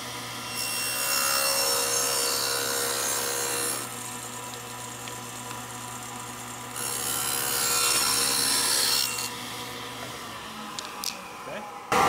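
A table saw cuts a 5/16-inch-thick, 1-inch slot across the top of a wooden piece for a rat trap trigger mod. Two loud stretches of blade-on-wood cutting with a steady motor whine between them, close by.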